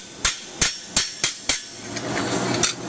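Small hammer taps ring out on sheet steel as the brim of a German burgonet helmet is forged: five sharp, evenly spaced metallic strikes, then a few lighter, softer taps.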